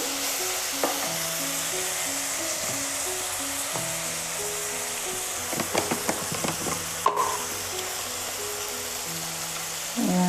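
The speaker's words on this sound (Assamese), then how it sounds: "মই বিলাহী ভাজি আছোঁ" Tomatoes sizzle steadily in a hot pan while a utensil stirs and scrapes them in a few short bursts.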